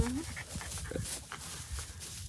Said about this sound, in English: Big dog versus little dog.